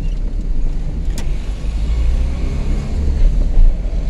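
A Volkswagen Gol CHT 1.6 drives along a road with a loud, steady low engine rumble and road noise, mixed with some wind buffeting and no talking.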